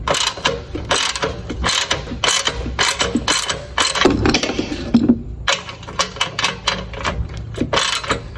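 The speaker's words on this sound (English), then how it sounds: "we're going to take out these bolts that are holding it down" A ratchet wrench backs out the bolts holding down the cover of a Generac power washer, giving loud, close, rapid clicking in repeated bursts with short pauses between.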